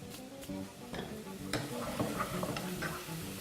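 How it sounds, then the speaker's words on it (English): Onions, celery and carrots sautéing in a pot as they are stirred, a soft sizzle under scraping and light knocks of the spoon against the pot, close and fairly quiet. "I'm going to add it now to my mixture that has my onions, celery, and carrots. I'm going to give this a stir."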